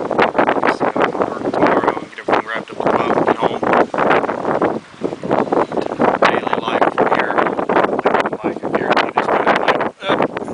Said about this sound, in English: it turned into a spectacularly windy day